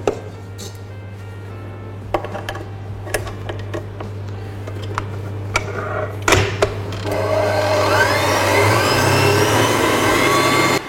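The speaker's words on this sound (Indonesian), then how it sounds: "Kita kocok dengan kecepatan sedang kurang lebih 10 menit ya" An electric mixer beats cake batter for a mocha nougat roll cake at medium speed, a steady close motor whir with irregular clatter against the bowl that swells louder and denser in the last few seconds.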